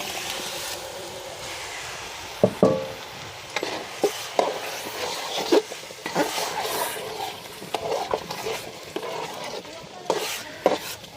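A spoon scrapes and stirs chicken into fried rice in a pot for biryani, in irregular strokes, with soft sizzling underneath and occasional clinks against the metal.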